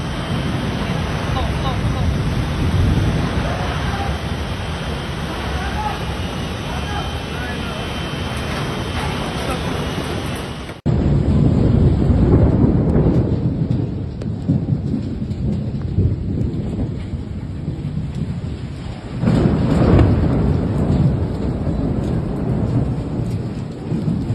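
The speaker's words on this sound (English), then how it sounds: "a tornado-like vortex tore through neighborhoods, ripping off roofs, collapsing walls, and sending debris flying through the air" A tornado storm roars through Sijangkang, Malaysia, with dense rushing wind, heavy rain and rumbling thunder. The noise is loud and continuous, breaks sharply partway through, then resumes, and voices come through at times.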